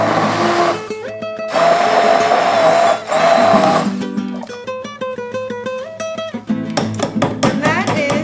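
Immersion blender whirring through yellow summer squash soup with milk, loud, steady motor drone in bursts that start, stop and restart, with shifting pitch as the blade works the mixture.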